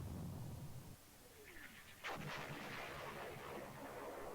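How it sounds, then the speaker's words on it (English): Artillery shells strike units in the turn-based hex wargame East Front 2, a single sharp blast with a rumbling tail following a faint descending whistle, standing alone at moderate level. "Okay, artillery's hitting us."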